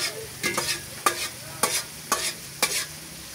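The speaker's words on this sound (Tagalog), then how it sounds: "Lagyan na natin ng gata para mas masarap." Coconut milk being stirred into bagoong in a pan, with a spoon scraping in a steady rhythm of about six strokes over a soft, close simmer and no one talking.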